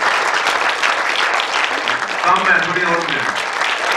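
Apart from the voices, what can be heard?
audience applause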